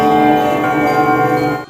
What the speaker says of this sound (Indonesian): tiba-tiba pandangan si Bian terfokus ke jam besar yang mendadak berbunyi